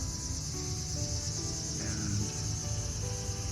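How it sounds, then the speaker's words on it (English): Steady cicada buzzing in a park in late summer fills the background, a continuous high drone that holds level throughout with no voices. "You can hear in the background there's lots of cicadas making noises."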